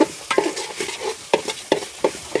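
Rice for chicken biryani frying in a pan, with a soft sizzle under repeated crisp spatula strokes that land in an uneven rhythm, close and without talk.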